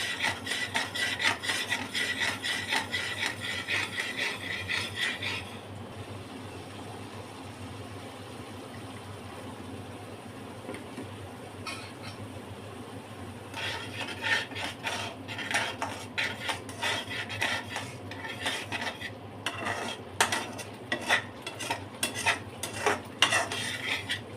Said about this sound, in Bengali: আরও কষাবো, যত কষাবে তত টেস্ট ভালো হবে।